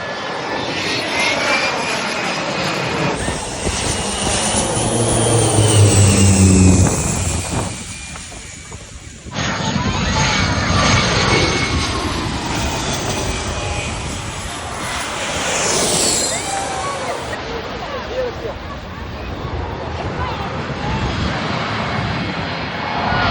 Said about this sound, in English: We had to watch the planes land.